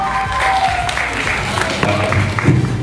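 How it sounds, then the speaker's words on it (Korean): Studio audience applause at a television show, a dense, steady patter of clapping that runs throughout, with voices talking over it. "박수를 어서 치지 못하겠느냐"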